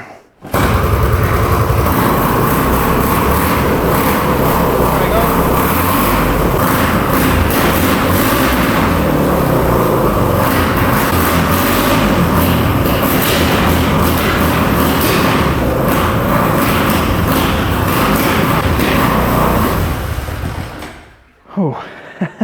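Suzuki DR 250 S motorcycle engine running loud and steady after a hard kick-start, with a continuous rough racket and revving throughout, voices speaking over it, before cutting off near the end.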